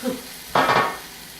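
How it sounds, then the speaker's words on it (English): Oven-roasted broccoli hitting a hot skillet, a sudden loud burst of sizzle that flares for about half a second and then fades, close up and with no talk. "We'll toss it in the skillet without dropping everything."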